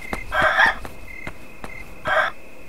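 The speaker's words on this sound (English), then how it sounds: "I found the second chicken." Short clucking bursts from a chicken in the horror game Yomawari: Night Alone, two separate squawks over a steady electronic hum and light clicking footsteps.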